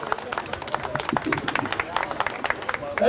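Quick, scattered claps from a small outdoor crowd at a picnic auction for the Körfez Amasyalılar community, uneven and lively for about three seconds, mixed with murmuring voices.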